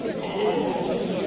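Sheep bleat amid the crowd at the Khemis Attaouia livestock market, a busy mix of animal calls and chatter, with someone talking over them close up.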